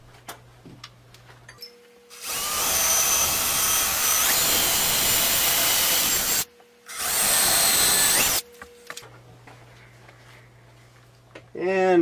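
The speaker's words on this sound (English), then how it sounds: "I'll drill the pilot holes." Power drill with a 7/32 bit boring pilot holes while mounting a wall-mounted body press, two loud sustained bursts of whirring separated by a brief pause, with quiet handling noise before and after.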